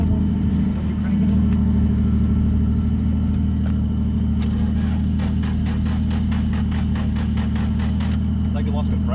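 Ford Mustang engine idling roughly at a street drifting meet, a loud, steady low rumble that sputters unevenly as if it has lost compression, with people talking over it.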